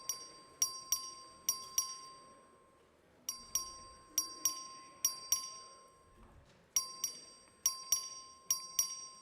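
Voting bell in a state House chamber, rung by the clerk for a record vote, sharp metallic dings struck in quick clusters of two to four, repeated three times with pauses, ringing clearly over a quiet hall murmur.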